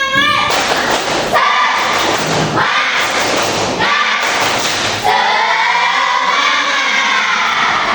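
A classroom of students performs the 'tepuk semangat' rhythmic clapping routine: loud, close bursts of group clapping come in several rhythmic phrases, then the class breaks into shouted, chanting voices.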